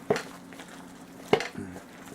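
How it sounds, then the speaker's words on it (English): Ingredients for a turkey meatloaf with cumin being mixed in a bowl, two sharp clinking knocks against the bowl with softer scraping and shuffling between them, close and alone. "we're gonna mix this up real good here"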